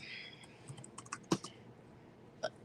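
Keys clicking on a computer keyboard as someone types, a few sparse, quiet taps with one sharper click, close by over faint background hum.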